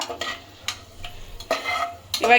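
Whole spices such as cinnamon and cloves lightly frying in a pan, with a soft sizzle beneath a few distinct scraping stirs of a spoon, close and alone without talk.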